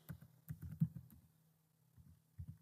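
Soft computer keyboard typing on a Windows PC: a short run of muffled, thuddy keystrokes, a pause, then a couple more taps, quiet and close with no talking.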